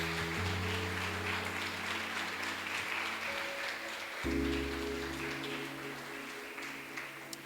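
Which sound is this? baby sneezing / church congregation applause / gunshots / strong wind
church congregation applause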